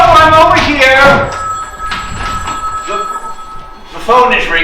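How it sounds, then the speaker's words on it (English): Telephone bell ringing indoors in a stage play, a repeated metallic ring heard between lines, with people talking around it. "The phone is ringing."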